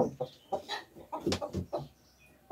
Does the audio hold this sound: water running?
no